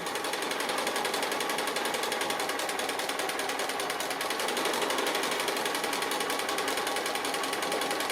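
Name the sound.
sewing machine stitching applique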